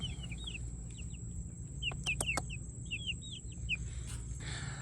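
Backyard chickens cluck and chirp repeatedly in short, rising calls over a low outdoor hum, with a few sharp clicks or taps mixed in, fairly close.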